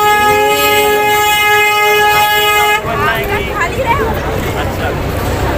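Toy train ride at a village fair, its horn sounding a long sustained melodic toot, then giving way to a busy, loud fairground din with voices and chatter.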